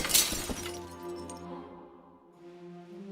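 A bird crashes into a stained glass window in the video game Deponia Doomsday: a sharp, close burst of shattering glass followed by lingering, ringing chime-like tones that slowly fade.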